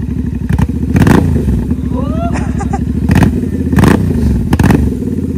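A Royal Enfield motorcycle fitted with an aftermarket SS Motocorp exhaust, at a riders' meetup in Japan, idles with a rapid thumping pulse and is revved in several sharp bursts, close and loud, with voices in the background.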